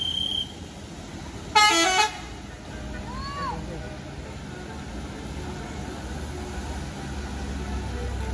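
A tour bus on the Pangandaran road sounds its telolet horn, a brief loud melodic burst of rapid tones, followed by fainter warbling horn notes over road traffic noise and distant crowd chatter.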